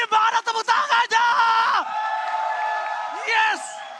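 Live crowd at an esports grand final (Mobile Legends M5, ONIC vs AP Bren) yelling and cheering loudly in bursts, close and intense, with a sustained roar and another swell near the end.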